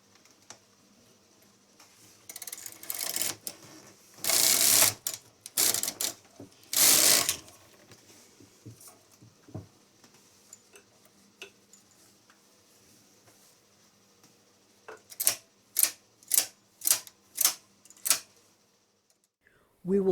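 A knitting machine works rows to close a seam on a quick gift bag, its carriage making ratcheting mechanical clatter in bursts with pauses, then a regular run of sharp clicks near the end.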